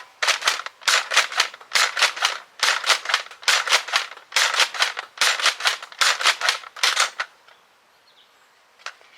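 A Nerf Elite 2.0 Eaglepoint blaster, barrel removed, shooting Sure Shot darts in a rapid series of about eleven sharp snapping shots in steady rhythm, then quiet with one last faint click.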